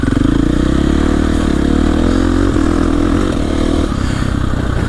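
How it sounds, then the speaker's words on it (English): Dirt bike engine loud and close, revving hard and shifting up through the gears with a quick shifter and no clutch, the pitch dropping briefly at each shift before climbing again. "Now we'll just shift without a clutch."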